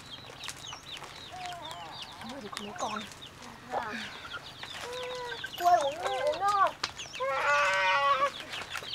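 Chickens cluck and make short calls close by in a rural setting, with rising bursts of squawking toward the end while people talk over them.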